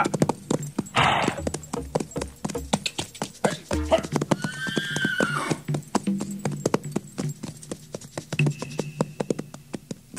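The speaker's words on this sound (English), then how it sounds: "Maneuver the horses, men." Several horses maneuver as men drive them on, with close clip-clopping hooves and loud neighs breaking through, while voices shout and call out over the animals.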